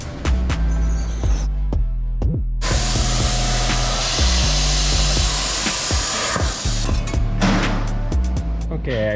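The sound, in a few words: cutting off metal studs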